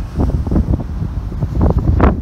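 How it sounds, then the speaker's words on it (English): Strong wind buffets the microphone at an ocean inlet by Mission Bay in San Diego, with heavy waves rumbling and surging underneath in a loud, continuous roar. "wow, the waves are still coming in pretty heavy uh, from the ocean"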